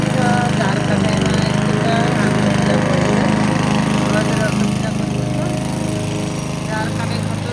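A push-type grass-cutting machine, shoved along by hand, cuts weeds on open ground with a loud, steady engine drone throughout, while people talk over it.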